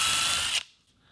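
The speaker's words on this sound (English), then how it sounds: "And I'm going to drill all these first before." A power drill bores holes in a chair leg for new glides, a loud high-pitched whir for about half a second that stops abruptly, followed by a faint mechanical click and quiet.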